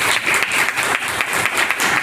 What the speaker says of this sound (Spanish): le damos un aplauso a Héctor por la presentación